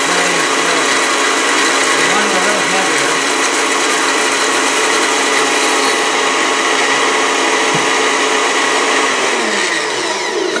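A blender whirs loudly and steadily as oil is poured in through the open lid to emulsify a vinaigrette, its motor drone shifting slightly as the mixture thickens, with a faint voice underneath.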